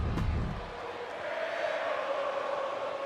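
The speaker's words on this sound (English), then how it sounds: "So the crowd chanting for Gable here tonight." A video game crowd chants at a WWE 2K23 wrestling event, a broad distant roar holding steady at moderate loudness after a short opening burst.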